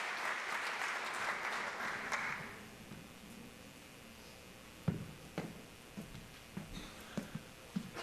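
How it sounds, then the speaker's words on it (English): A college staff kickoff audience applauds faculty for about two seconds, the clapping fading quickly into a quiet hall with a few scattered knocks and shuffles afterward. "Once more, a round of applause for all these folks."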